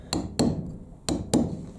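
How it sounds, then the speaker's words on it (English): Four sharp, evenly spaced blows of a mallet striking a steel chisel held against Southern Stone while carving a house sign, each hit ringing bright and close in two quick pairs. "Nice strong blows, and I'm holding this chisel"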